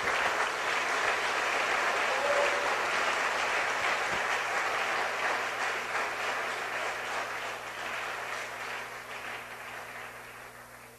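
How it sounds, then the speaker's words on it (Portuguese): A church congregation claps for Jesus, a dense sustained round of applause close by that slowly fades over several seconds, with a faint steady hum beneath. "Bate palmas para Jesus"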